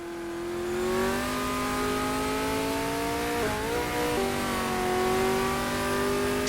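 A Ford GT40-era race car powering out of a corner at the Clermont-Ferrand circuit in a racing game, its engine note climbing steadily and loud, with a brief dip as it shifts gears before rising again.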